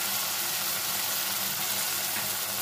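Mustard and poppy seed paste frying with onions in a pan for a kakrol and potato curry, a steady broadband sizzle that holds evenly throughout at moderate level, with no voices.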